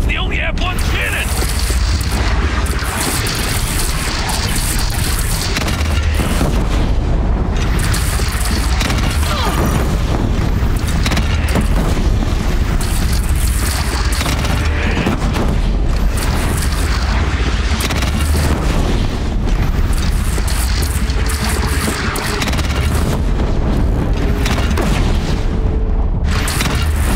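Cannon fire and explosions from a bandit clan battle in the video game Horizon Zero Dawn, a dense, loud, continuous roar of booms and crashes lasting throughout, with character voices shouting over it.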